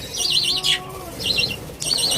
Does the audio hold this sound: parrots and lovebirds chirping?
yes